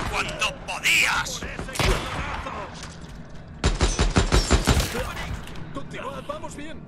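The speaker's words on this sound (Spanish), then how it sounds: "Ha habido varios disparos." Gunfire rings out in the video game Days Gone: scattered sharp shots, then a dense burst of rapid reports in the middle, mixed under game speech and effects.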